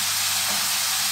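Sliced black mushrooms hit a hot pan and give off a steady, bright hissing sizzle for about a second, close and fairly loud, with no other sound.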